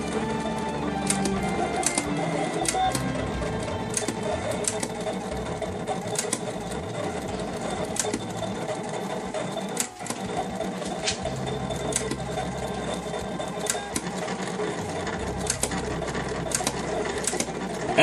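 A vinyl cutting machine runs steadily and close by, a dense mechanical whir with fast repetitive clicking and buzzing that holds throughout, broken only by a brief dip near the middle.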